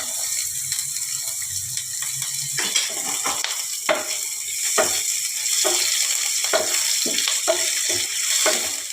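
Chopped onions and green chillies fry in oil with whole cardamom and cinnamon for Bengali chicken ghugni, a soft continuous sizzle broken by repeated scraping and stirring clicks, close, with no speech.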